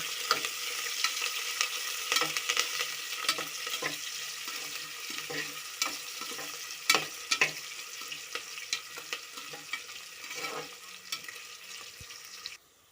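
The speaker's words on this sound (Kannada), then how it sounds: "ಎಲ್ಲ ಹಾಕಿದಾದ್ಮೇಲೆ ಸ್ವಲ್ಪ ಫ್ರೈ ಮಾಡ್ಕೊಳ್ಳೋಣ ಕಲರ್ ಬರೋವರೆಗೂ" Potato saagu ingredients frying in a pan while being stirred, a constant close sizzle with repeated spatula scrapes and taps on the pan, no voices, ending abruptly.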